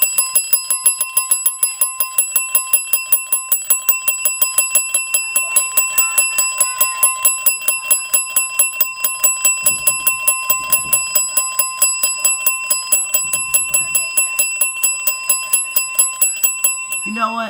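A bright bell rings over and over in a steady, rapid rhythm for the whole stretch, with a few dull thumps in the background.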